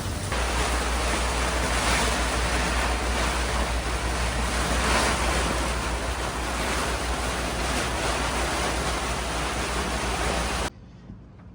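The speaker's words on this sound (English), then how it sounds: "So the rain is pretty crazy," Heavy rain on a boat, a loud, dense, steady wash of noise with a low rumble beneath, cutting off abruptly near the end.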